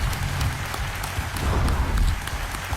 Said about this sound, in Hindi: तालियों के साथ उनका स्वागत किया जाए